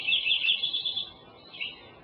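A Lincoln sparrow sings in the Sierra Nevada, a bright, high, rapid warbling phrase heard clearly and fairly close, fading slightly toward the end with a brief final burst.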